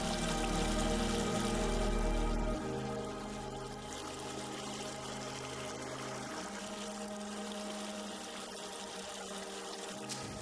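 Water runs steadily through a canal high on a mountainside, a continuous close, loud rushing and pouring flow that eases slightly after the first few seconds and then holds at an even level.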